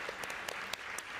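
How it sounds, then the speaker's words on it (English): Brief burst of audience applause at a startup pitch competition, a few scattered claps over a steady hiss, short and moderately faint. "One last round of applause for Spinn."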